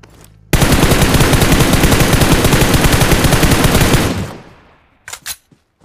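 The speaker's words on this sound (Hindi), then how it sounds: "एक बंदा खुले में बिना किसी कवर में स्नाइपर शॉट ले रहा था।" Gunfire in the mobile battle game PUBG Mobile: a loud, sustained burst of rapid shots lasting several seconds that fades out, followed by a couple of brief sharp sounds.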